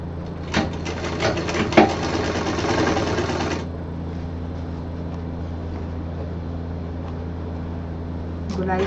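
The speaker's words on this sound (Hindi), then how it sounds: "सफाई से सिल देना है इसको" A sewing machine stitches a cut-piece fabric bag, a rapid close whirring chatter for about three and a half seconds, then stops and leaves a steady low electrical hum.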